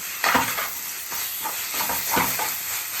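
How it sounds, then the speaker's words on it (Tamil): Onions with a ground paste of shallots and tomatoes, salted and sautéing in hot oil for a goat leg gravy, giving a steady close sizzle broken by a few bursts of scraping stirs. "சின்ன வெங்காயம் தக்காளிலாம் போட்டு அரைச்சி பேஸ்ட்டு போட்டு வெங்காயம் போட்டு உப்பு போட்டு வதக்கிக்கிறேன்"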